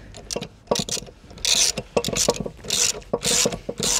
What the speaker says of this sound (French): Alors on peut venir prendre le cliquet